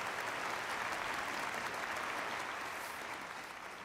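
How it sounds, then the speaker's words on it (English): An audience at an opening ceremony and plenary session applauds a visiting delegation and youth ministers, a sustained dense wash of clapping that holds steady and then fades slightly near the end. "Let us give a round of applause to the SENSAD delegation and the ministers of youth."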